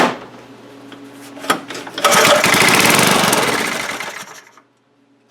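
A vintage Briggs and Stratton 3hp engine is pulled over a few times, then catches and runs loud and rough for about two seconds before dying away into near silence.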